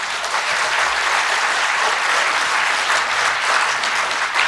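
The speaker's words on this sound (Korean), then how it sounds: "큰 박수 한번" Loud, sustained applause fills a National Assembly suicide prevention forum hall, steady dense clapping from a large audience with no break throughout.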